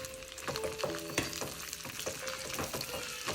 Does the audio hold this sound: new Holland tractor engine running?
no